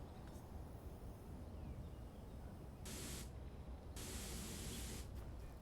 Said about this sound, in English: Someone's got a spray gun